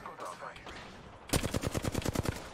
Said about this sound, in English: Where the fuck are you shooting from?